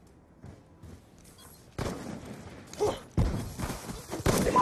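Tank main gun firing in a video game: quiet rumbling at first, then a few heavy, booming shots arriving in sequence, each a loud thump with a rolling tail, growing louder toward the end.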